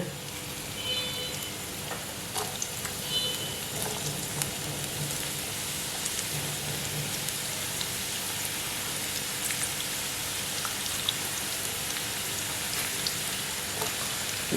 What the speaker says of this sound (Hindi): अब हम अपने तेल के अंदर प्याज डाल लेंगे।